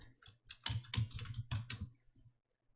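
Keys clatter on a computer keyboard as text is typed, a quick irregular run of close, crisp clicks for about two seconds, then quiet.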